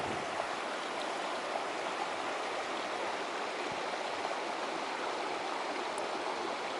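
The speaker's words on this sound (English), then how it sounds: "You can hike farther upstream, and there's some small cascades." A mountain stream with small cascades at South Gate Meadows on Mount Shasta rushes steadily, a constant broad water roar with no voices.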